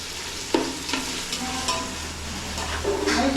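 Onion cooking with turmeric in a pan, a steady frying sizzle with a few stirring scrapes and clinks, close and moderately loud, with no one talking.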